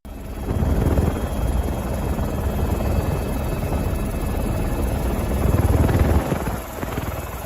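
A helicopter's rotor drones steadily and evenly throughout over a flash flood in Switzerland, a constant throbbing hum at moderate distance with no voices.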